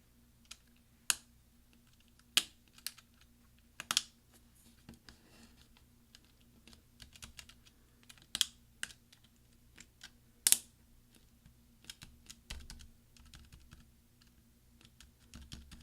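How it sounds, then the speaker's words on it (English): Caps lock key being pressed onto a 13-inch mid-2010 MacBook Pro (MC374) keyboard, giving a series of sharp, separate plastic snaps and clicks at uneven intervals, close and fairly quiet, with no talking. "we're going to push down with our finger, and we're going to hear several snaps"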